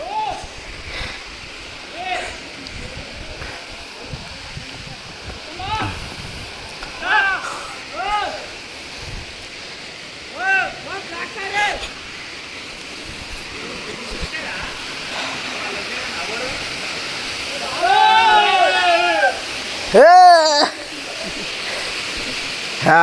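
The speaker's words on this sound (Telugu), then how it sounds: "ఇది మన వాటర్ ఫాల్స్," A waterfall on a hillside trail gives a steady broad rush of falling water in the background, heard under the people talking nearby and rising in loudness toward the end.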